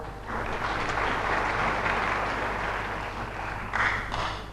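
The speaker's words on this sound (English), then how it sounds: "Please, another round of applause." An audience at a presidential launch event in Ghana gives a round of applause for the Western Regional Minister: a broad, sustained wash of many hands clapping at a steady level, swelling briefly near the end.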